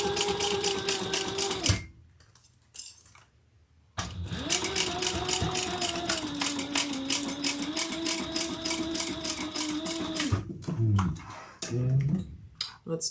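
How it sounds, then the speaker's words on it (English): A sewing machine stitches along the edge of a black leather clutch wallet, running in fast steady rhythmic bursts, pausing briefly, then resuming before stopping and restarting with a few handling knocks. "I'm just using the edge as my guide for my stitching."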